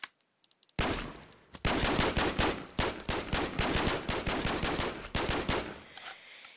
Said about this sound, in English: So we have to reload, and then we can shoot it.